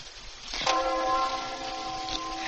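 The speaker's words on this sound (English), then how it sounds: "That funeral bell. It fills my heart with fear whenever I hear it." A single funeral bell strikes and rings on with a sustained, humming tone that slowly decays, heard at moderate distance over a faint background hiss.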